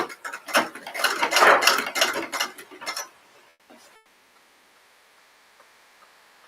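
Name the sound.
sewing machine backstitching fabric strips for piping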